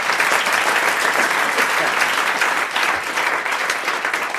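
A studio audience on a 1993 French television game show applauds a winning contestant, a full, continuous round of clapping for several seconds.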